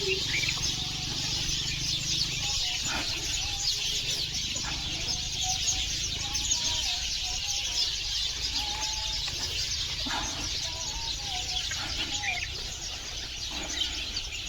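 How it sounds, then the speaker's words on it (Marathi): Sparrows chirp and twitter intermittently over a steady hiss of outdoor ambience, the calls light and moderately distant throughout. "स्वच्छ अशा सुरामध्ये या चिमण्यांचा किलबिलाट ऐकू"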